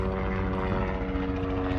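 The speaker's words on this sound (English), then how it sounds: "we got a helicopter inbound, so there's gonna be some background noise" An inbound helicopter flying overhead near a parked travel trailer, a steady droning engine and rotor hum with a strong tonal whine, constant and fairly loud throughout, no voices.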